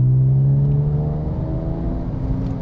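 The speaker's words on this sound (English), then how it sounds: "I've got the Design Tech exhaust on this," A classic Porsche fitted with a Design Tech exhaust revs, a steady low engine tone rising slightly in pitch before settling into a smooth, continuous drone, close and fairly loud with no talk.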